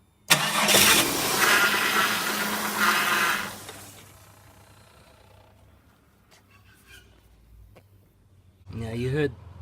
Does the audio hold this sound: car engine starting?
yes